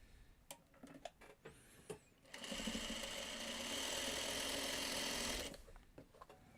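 A sewing machine stitches a quilt block in one steady, fast three-second run after a few soft handling clicks and taps, close and fairly quiet.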